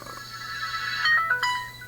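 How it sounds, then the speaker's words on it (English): A mobile phone gives a brief electronic tone sequence as it shuts down on its own, a few short ascending notes over a quiet room background, with no talk. "And that's my phone shutting off for no apparent reason."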